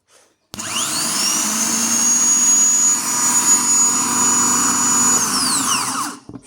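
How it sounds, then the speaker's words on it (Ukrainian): A Skoda Octavia starter motor spins up with a rising whine, runs at a steady high-pitched hum for several seconds, then winds down; loud and close. "Пробуємо, чи сам мотор робить."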